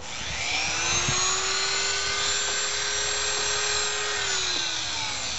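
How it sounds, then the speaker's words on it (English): A Dremel rotary tool with an emery cutoff wheel whines at a steady high pitch as it cuts a small clip on a lawn sprinkler's caps, spinning up and running continuously before slowing at the end, with no talking. "I take a Dremel tool with a emery cutoff wheel."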